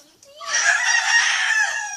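A pet bird gives a loud, sustained call, shrill and harsh, close by and alone, lasting most of two seconds after a brief quiet start.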